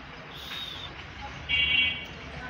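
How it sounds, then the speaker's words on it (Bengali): Several doves, about four along with a pair of pigeons, give soft, low cooing calls that are faint and brief, with a slightly louder coo near the end. "এখানে মেবি এখন 4টা ঘুঘু আর কি"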